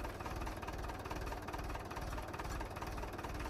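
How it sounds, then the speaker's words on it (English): Tractor engine idling in Farming Simulator 17, a steady, continuous low rumble with a dense knocking pulse that holds at an even level throughout, with no talking. "I hope the tractor isn't too loud"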